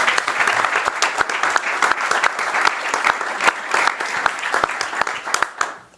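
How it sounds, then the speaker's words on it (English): Applause from a gathering of the New England Council, many hands clapping in a lively round with a few sharp individual claps standing out, tapering off at the very end. "Let's give them a round of applause."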